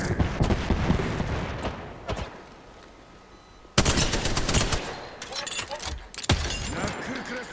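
A player shooting a gun in the battle royale shooter Apex Legends: loud bursts of close gunfire, first a few shots, then a sustained volley after a quieter lull, with a voice talking over the game sound.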